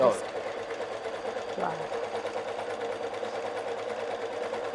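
Electric sewing machine stitching a zigzag pattern, a steady close mechanical whirr with rapid needle rhythm running throughout, with a brief voice near the start.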